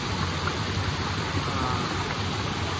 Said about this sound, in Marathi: पाऊस परत सुरू झाला.